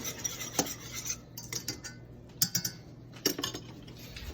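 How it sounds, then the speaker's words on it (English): A spoon stirs pepper into chicken alfredo in a pan, making light metallic clinks and scrapes that come in a few small bursts over a low background hum. "We're gonna stir our pepper in."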